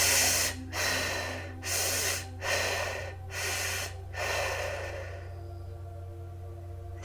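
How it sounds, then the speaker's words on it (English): Deep, slow breaths drawn in and pushed out through the mouth, as if sucking through a straw: about five airy inhale-exhale cycles in a steady rhythm, close and fairly loud over a low hum, then fading to quiet. "I now breathe deeply in and out my mouth, as though sucking in through a straw and then releasing."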